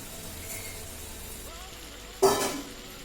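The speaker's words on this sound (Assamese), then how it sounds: "এয়া ভাজি মাংসখিনি ৰঙা হ'লত মই এয়া আলু দি লৈছোঁ।" Goat meat sizzles softly in a pan before raw potato pieces drop in with one sudden loud hiss and splash that quickly fades back to a low steady fry.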